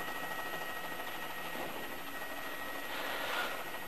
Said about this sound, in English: And we do have a police helicopter on top to us.